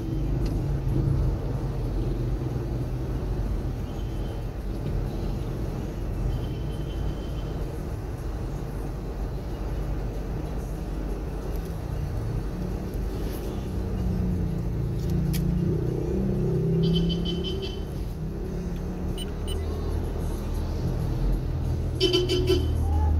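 Steady road traffic rumbles in a congested street in Muzon, with a few short car horn toots cutting through near the end.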